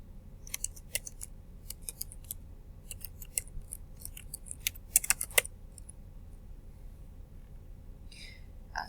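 Keys clatter on a computer keyboard as an event gets typed into a calendar, with quiet, irregular bursts of clicks in short runs, then a pause and a faint final tap.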